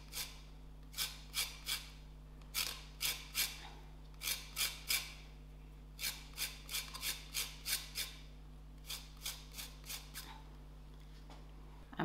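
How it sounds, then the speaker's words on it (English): Lemon being zested on a grater for a spicy prawn chutney, a rhythmic series of short raspy scrapes in quick groups, close and fairly quiet over a low steady hum. "the zest of the lemon."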